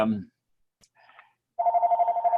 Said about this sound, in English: there goes my phone